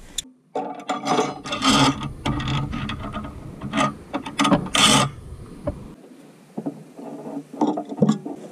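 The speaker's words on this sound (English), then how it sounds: "I put a new propane regulator on. We're just going to grab it here and twist." Twisting a new RV propane regulator fitting gives close, scraping metallic ratchets and rubbing grinds in uneven bursts, with short pauses between turns and no speech.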